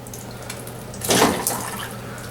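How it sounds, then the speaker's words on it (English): Water runs briefly through a trombone slide during cleaning, a short gushing burst in the middle over a quiet background hum. "now I like to run a little bit of water"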